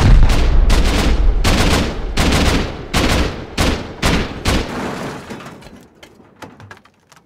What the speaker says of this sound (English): That means there's a rocket going out.